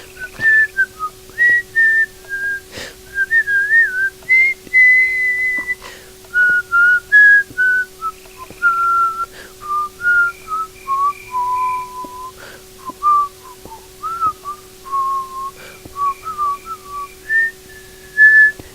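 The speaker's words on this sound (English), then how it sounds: "Now for some whistling Christmas music." A person whistles a Christmas tune solo, in clear melodic phrases with short breaks, close and fairly loud over a faint steady hum.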